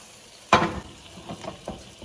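Butter hits a hot pan for sausages in a chicken, shrimp and sausage gumbo, giving one sudden loud sizzle that quickly settles into a softer crackle with a few small pops.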